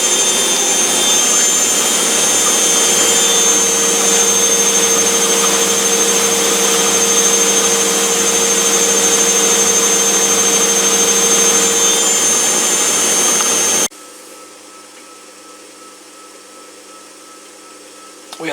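A CDA washer dryer hums and whirs steadily through a drying cycle, with a constant tonal drone that cuts off abruptly near the end, leaving near quiet.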